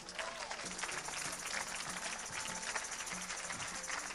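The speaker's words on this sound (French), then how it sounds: "C'est toi Thérèse, viens ici, on acclame le Seigneur, Alléluia" A church congregation claps steadily and loudly throughout a worship service, the applause continuous with crowd noise and some voices mixed in.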